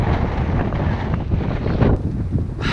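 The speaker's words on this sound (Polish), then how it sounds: "Że wiatr jest masakra." Strong wind buffets the microphone during a bicycle ride in Georgia, producing a loud, continuous low roar that eases slightly near the end.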